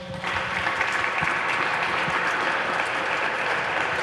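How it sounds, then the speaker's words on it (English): An audience at a public listening session on internet access breaks into steady, dense applause that starts abruptly and holds evenly at close range. "So I want to give them a round of applause."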